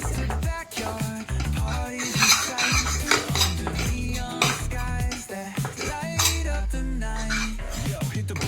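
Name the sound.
stirring gram flour into fenugreek leaf curry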